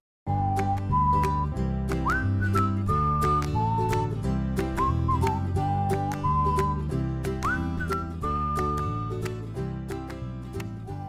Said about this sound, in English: Coming up right after the whistling.